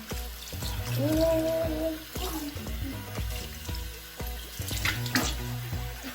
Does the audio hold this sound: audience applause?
no